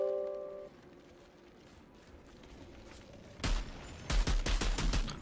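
Single-fire gunshots in Outriders, a burst of loud, sharp cracks in the last two seconds, one shot then a quick run of several more, following quiet ambience with a short tone at the start.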